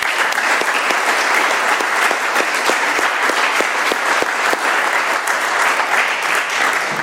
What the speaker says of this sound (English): Let's have another round of applause for Rick.